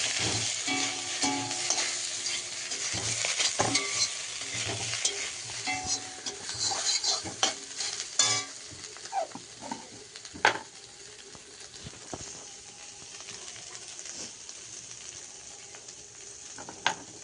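Soybean chunks fry in hot oil in a pan with a steady broadband sizzle, stirred with a utensil that scrapes and clinks now and then, no voices.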